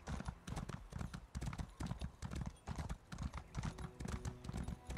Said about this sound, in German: So, jetzt holen wir uns erstmal unser Pferd.